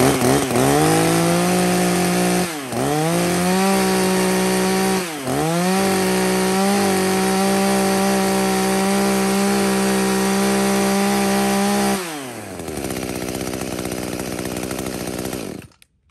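A used Japanese chainsaw runs loud and close at high revs, dipping twice briefly before settling into a lower, rougher idle and cutting off.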